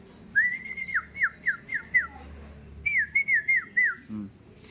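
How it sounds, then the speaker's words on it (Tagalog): Birds call in a clear sequence of repeated whistled notes, one run of about six followed by a pause and a second run of four, fairly close over quiet background noise. "Ayaw ko sa mga ibon na yan"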